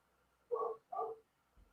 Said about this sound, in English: I apologize for the bark.